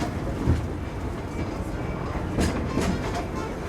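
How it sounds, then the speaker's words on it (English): Disneyland Railroad steam train running on the rails, a steady close rumble of wheels with rhythmic clickety-clack over rail joints and a few brief metallic squeals. "please remain seated until the train comes to a complete stop"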